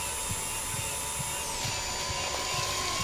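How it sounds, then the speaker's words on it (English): A dental drill whines steadily close beside the head in the horror game Stories Untold, a sustained high-pitched tone that shifts pitch midway, with faint low thumps beneath. "that drill's next to my head"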